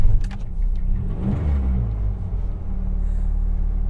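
Small 545cc engine of a first-generation Honda TN-Acty kei truck turns over and catches, settling into a low steady rumbling idle, close and alone without talk.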